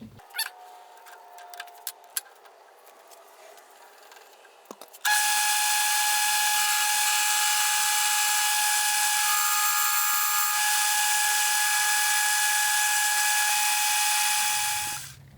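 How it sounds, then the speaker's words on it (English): Small high-speed cutoff tool grinding into a metal motorcycle shift lever, a loud sustained whine lasting about ten seconds after some light clicks and handling noises. "I've used my little cutoff tool here to sort of straighten the sides in here"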